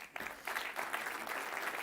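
An audience at the Vodafone Power Lab 2022 pitch event claps in a loud, sustained round of applause that swells in waves.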